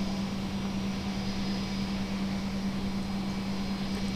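A-10 jet idling or spooling up before takeoff in the Lock On flight simulator, a steady droning engine hum with a strong low tone and broad hiss, constant and unbroken with no voices.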